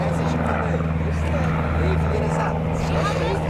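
An Air Baltic airliner lands at Zurich Kloten Airport. Its engines give a steady, loud, distant drone, and a voice talks over it.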